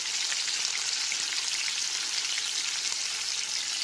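Potato and pointed gourd pieces fry in oil in a pan with turmeric for a vegetarian aloo potoler korma, giving a steady, close, even sizzle with fine crackling throughout and no voices.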